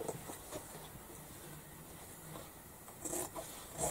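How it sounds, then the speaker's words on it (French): Scissors or a blade cutting through cardboard traced for a child's school backpack, soft scratchy rasping strokes at close range, faint and fairly continuous with a couple of slightly louder snips near the end. "mon carton, je trace autour, voilà, je découpe"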